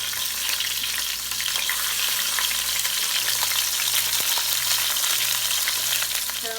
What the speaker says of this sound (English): the meat is getting nice and brown